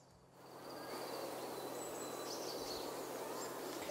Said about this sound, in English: There's just like a bird loop.